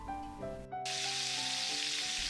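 Bauernwurst sausage frying in a pan of fat, a steady close broadband sizzle setting in after a brief pause and holding loudly throughout, with tonal musical notes running underneath.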